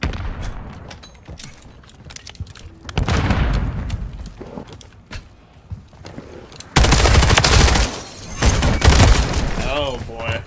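Gunfire from Call of Duty MW3, with bursts of loud shots and booms in several clusters and heavier blasts in the second half, mixed with game sound and a voice talking.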